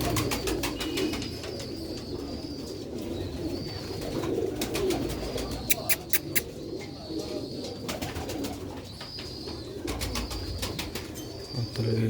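Pure-breed pigeons coo in soft, repeated phrases at a moderate distance, with several birds calling in turn over a quiet background.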